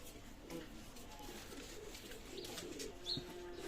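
Pigeons coo at a loft of Pakistani high-flying pigeons, a faint, continuous low murmur of several birds with a few brief chirps, under a voice.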